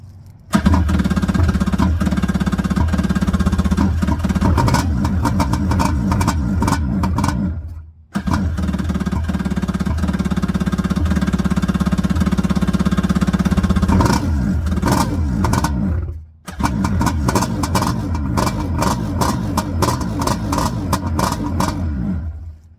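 A Yamaha 701 engine fitted in a Kawasaki X2 jet ski, untuned with the carb unset, starts and runs loud and close, roaring and revving with rough clattering, cutting out twice and restarting each time.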